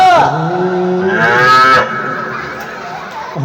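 A human voice imitates a cow's moo, drawing out a few long, loud, wavering lowing calls close by with a brief pause between them and no other talk.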